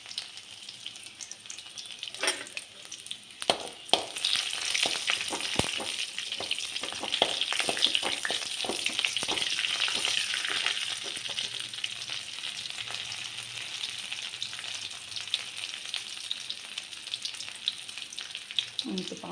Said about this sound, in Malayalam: ഇവിടെ ഞാൻ ചെറിയ ഉള്ളിയും കുറച്ച് വെളുത്തുള്ളിയും ഇട്ടിട്ടുണ്ട്. വെളുത്തുള്ളിയിട്ട് അത് മൂപ്പിക്കുക.